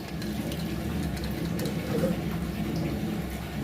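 Leftover cooking water poured off boiled chana dal into a vessel, a steady close splashing trickle running unbroken throughout with no talk.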